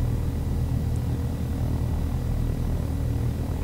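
Steady low rotor and engine drone of a helicopter in the flight simulator game Take on Helicopters, a constant rumbling hum with no talk.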